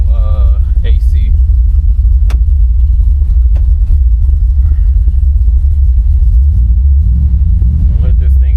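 A 1971 Chevelle engine idles while warming up, giving a steady, loud low rumble that holds even throughout, with a few brief higher-pitched squeaks and clicks laid over it.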